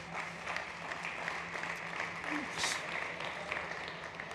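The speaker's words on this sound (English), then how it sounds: "let's give him a very big applause" Audience applause at a startup competition stage, a steady wash of clapping filling the room for several seconds, with some murmuring mixed in.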